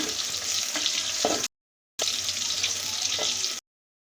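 Onion paste frying in hot oil, a dense, even hiss of sizzling with occasional soft stirring scrapes, close, stopping abruptly twice in short silent gaps.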